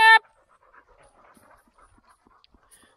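Working dogs panting quietly after returning when called back outdoors, soft rapid breaths scattered across the moment after a brief loud electronic tone at the start.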